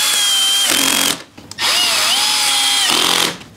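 Power driver whirring as it runs medium-length shoulderless T25 Torx screws into a BMW R1250GS motorcycle, two loud close bursts of motor whine with a short pause between them, no talking.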